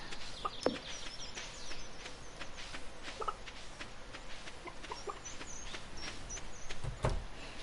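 Stardew Valley chickens cluck and chatter softly over a steady background hiss, with scattered short calls throughout.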